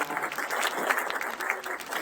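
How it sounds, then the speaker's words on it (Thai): Seminar audience clapping for three panel speakers, a steady patter of many hands close by, brief and even with no voices over it. "ขอเสียงปรบมือดังๆอีก ท่านให้กับวิทยากรทั้งสามท่านด้วยนะคร"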